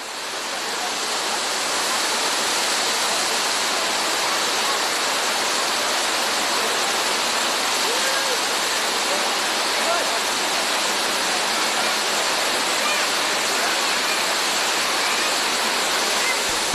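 A waterfall in Jordan tumbling into a natural pool, a steady, loud broadband rush of falling water that builds in over the first two seconds and then holds constant without pause.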